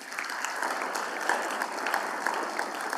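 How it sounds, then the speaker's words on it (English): Audience applause for award winners at a university leadership and service awards event: a full, continuous roar of clapping from a large crowd, steady and loud throughout. "Please give them a round of applause."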